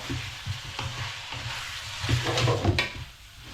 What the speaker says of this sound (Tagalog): At ilagay na rin natin ang ating tomato. Mix natin.